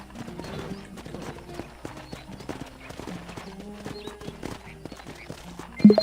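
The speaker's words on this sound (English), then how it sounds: "let's see if you can still ride a horse" A galloping horse in Red Dead Redemption Remastered gives a steady rhythmic clip-clop of hooves that stays mid-distance, and a sharper neigh-like burst comes near the end.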